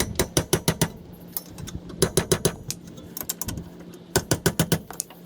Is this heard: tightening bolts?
yes